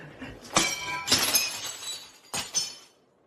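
Glass from a light breaking and shattering, with three loud bursts of crashing, tinkling shards, the first two close together and the last after a short pause.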